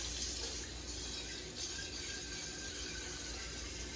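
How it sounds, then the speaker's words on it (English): Tap water pours steadily into a coffee pot, filling it with clean water for rinsing a Bunn coffee maker; a constant close, hissing flow runs throughout. "Get us a pot of clean water."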